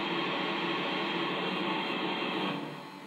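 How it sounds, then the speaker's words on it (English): A Lionel model steam locomotive blowdown sound: a loud, steady hiss of rushing steam, holding for about two and a half seconds before tapering off. "And also, here is the blowdown sound."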